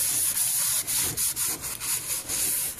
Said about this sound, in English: dry paper towel and wipe out any excess, and you wipe it out pretty good